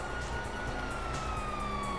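A police siren in a video game wails faintly in the distance, its tone sliding slowly downward over a dense background hum.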